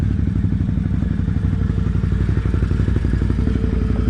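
A Kodiak four-wheeler's engine runs loud and close while driving, a constant rumbling drone with a rapid chugging pulse and rattling from the machine.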